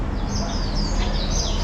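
Birds chirp and call in Largo da Cordoaria, a Macau square with a temple, basketball court and caged birds, their busy high twittering steady over a dense background of outdoor crowd and city noise.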